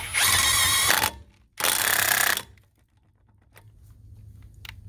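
Cordless impact wrench tightening a nut in mode 2, two loud close bursts of rapid hammering, the second one longer, followed by quieter clicks and handling noises.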